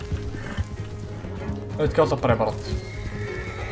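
Horse neighs and whinnies with clip-clop hooves in Red Dead Redemption 2, a loud burst midway over game background sounds, while someone talks throughout.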